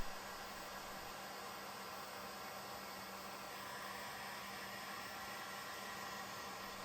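A heat gun blows with a continuous, even, faint hiss while warming 3D printed glove finger pieces, with no breaks or other sounds.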